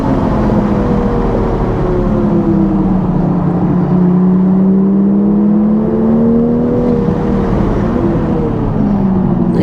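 A Toyota A90 Supra is driven hard around the Thunderhill race track, heard from inside as a loud engine drone that climbs and falls with gear changes and throttle, steady and close throughout.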